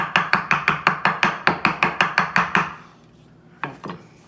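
Guacamole is mixed in a bowl with about fourteen even, rhythmic thumps close by, which stop before two softer knocks at the end.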